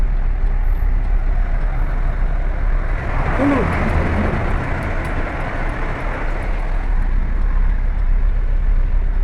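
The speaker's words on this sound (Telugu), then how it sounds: "full traffic jam" Congested highway near Dammam, Saudi Arabia, with trucks and buses idling and creeping, a continuous dense engine roar and a short air-brake hiss around the middle, steady and fairly loud.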